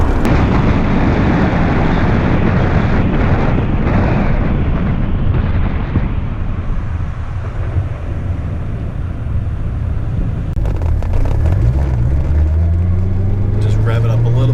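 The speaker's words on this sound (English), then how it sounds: "Just rev it up a little bit more, a little past that, a little bit more." A manual transmission car's engine rumbles loudly and steadily, with the pitch climbing near the end as it is revved. People talk over the engine noise.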